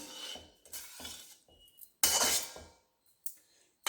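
A metal spoon stirs and scrapes vegetable fried rice with spring onion in a pan, giving a few separate clattering bursts with quiet gaps, one louder scrape near the middle.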